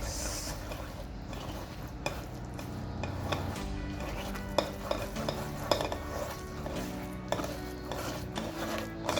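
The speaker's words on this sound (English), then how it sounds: "Scrape it very well." Scraping banga palm-fruit paste out of a food processor bowl, with repeated scrapes and clinks of a utensil against the bowl, close and busy with irregular knocks throughout.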